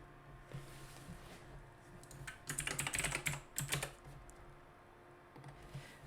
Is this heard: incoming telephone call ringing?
no